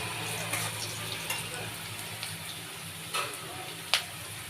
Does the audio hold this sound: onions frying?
yes